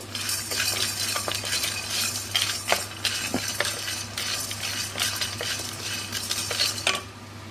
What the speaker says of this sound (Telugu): కారం పొడిలోకి వట్టి బాణలు పెట్టి ఒక రెండు స్పూన్లంతా పల్లీ వేశాను చూడండి వేగుతుంది